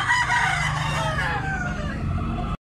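A brown-red gamecock rooster crows loudly and close by, one long drawn-out call that rises and trails off before cutting to silence.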